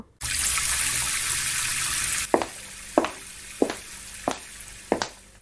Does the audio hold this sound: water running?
yes